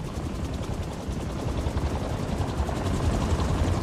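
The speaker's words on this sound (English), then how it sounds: "The helicopter's kind of slow." A helicopter in the Spider-Man 2 video game produces a steady, rapid rotor chop over a dense rumble that grows slightly louder toward the end.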